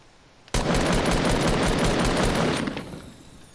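A sudden burst of rapid automatic fire from the player's gun in Fortnite starts abruptly and rattles on loudly for about two seconds, then trails away into quieter echoes.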